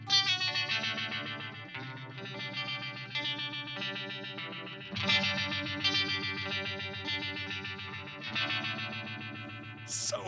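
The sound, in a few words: Uni-Vibe guitar effect pedal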